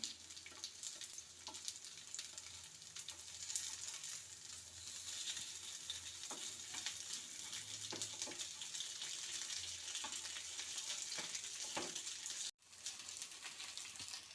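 Rice and sweet corn cutlets fry in a pan of oil with a faint, steady hiss and crackle throughout, close but quiet, and a brief dropout near the end; no voices.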